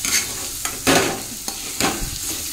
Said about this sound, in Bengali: আলুটা একটু কষাই করছি, তাতে একটু টমেটো দিয়ে দিলাম